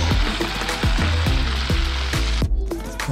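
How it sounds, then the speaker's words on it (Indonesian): Floured beef frying in a pan, a steady loud sizzle with repeated scraping stirs in a regular rhythm, close up and with no talk. "Okey, settle goreng daging."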